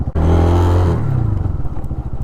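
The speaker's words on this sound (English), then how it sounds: "Let's see how the anti-lock brake works." RPS Cruiser 250cc EFI oil-cooled bobber motorcycle braking hard during an anti-lock brake test, a loud engine drone dropping in pitch as the bike slows, followed by a pulsing, chattering idle.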